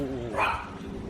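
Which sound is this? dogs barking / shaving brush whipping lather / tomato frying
dogs barking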